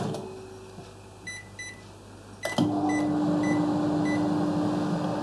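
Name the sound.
microwave oven heating chicken soup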